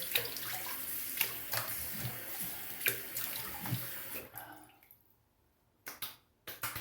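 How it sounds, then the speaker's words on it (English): Cold tap water runs and splashes for a few seconds with intermittent sharp spatters while rinsing after a shave, then stops, followed by a few brief splashes and clicks. "You rinse it with some cold water."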